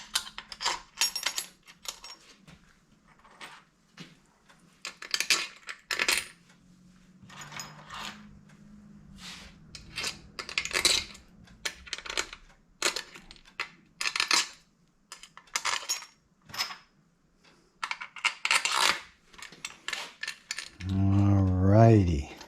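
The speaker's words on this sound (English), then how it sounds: "We will start dropping in all of the 10mm top case bolts." 10mm steel motorcycle top case bolts dropped into holes one after another, a series of sharp metallic clicks and taps with pauses between, fairly close.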